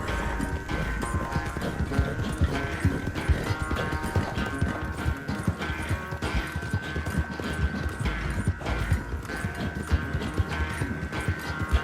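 Horse hooves clip-clop at a steady, continuous trot in the Red Dead Redemption 2 video game, close and clear over a dense layer of game music and ambience.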